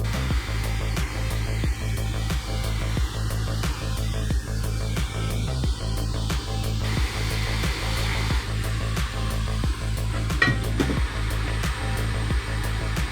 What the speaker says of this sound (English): Hot air's at 400 degrees. I'm just going to try and do this really quickly. Focus the heat at the bottom of the board away from that lens.